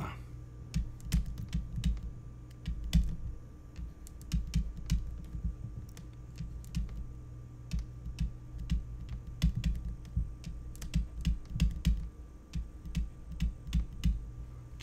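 Keys tapped on a computer keyboard in a steady run of quick, close clicks and clacks with brief pauses, over a low background hum.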